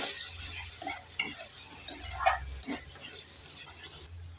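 Turmeric and chili powder are stirred in a pan for a Bengali fish curry, soft sizzling under scraping spoon strokes and light clinks, with a low hum in the background.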